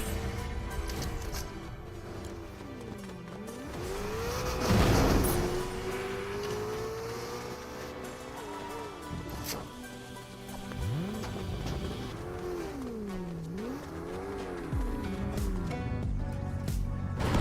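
A car engine revs in a video game, rising and falling in repeated whining sweeps with a loud skidding burst near the middle, all over steady game background sound.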